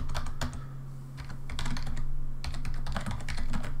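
Rapid typing of code on a computer keyboard: quick, uneven bursts of clicking keystrokes, close and fairly loud, with a short pause near the middle and no talking.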